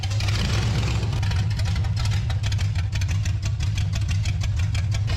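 A 1946 Chevy rat rod engine, garage-built, runs loud and close with a steady low rumble and slight knocking, fast rapid pulses throughout with no talk.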